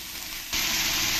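Dry chilli and ginger-garlic paste dropped into hot oil for a soybean mushroom masala, the pan bursting into a loud, bright, steady sizzle after a quieter start, close up.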